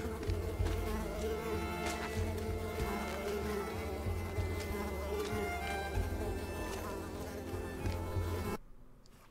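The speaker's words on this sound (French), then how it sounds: "Oh les moustiques de merde." Loud overlapping insect buzzing from the video game Unravel drones steadily and close for most of the stretch, wavering in pitch, then cuts off abruptly near the end into near silence.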